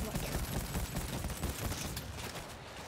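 Gunfire in World War Z amid a horde fight: dense, overlapping volleys of rapid shots from several weapons, sustained and loud, thinning slightly toward the end, with voices mixed in underneath.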